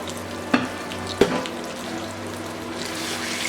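Beef hitting a hot pan and frying, with a steady close sizzle and two sharp clatters near the start.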